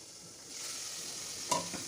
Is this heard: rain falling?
no